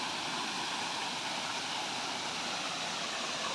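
Encantadora Falls: a steady, even wash of falling water roars throughout with no breaks, alone and fairly faint.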